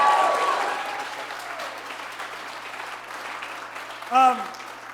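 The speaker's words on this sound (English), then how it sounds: "One more round of applause, one more time." Audience applause at a South Bronx youth soccer organization's tenth-anniversary benefit, strongest at the start and fading to a softer patter under a brief spoken voice near the end.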